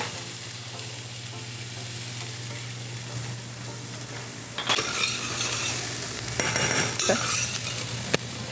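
Onions and seeded jalapenos frying in a pan give a steady close sizzle, then a utensil scrapes and stirs through them with clinks. A voice says one brief word.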